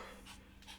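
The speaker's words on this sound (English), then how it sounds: "if you hear it at all, guys, that is a dog." A dog panting close by in a quiet room, a short burst of quick rhythmic breaths, faint and alone.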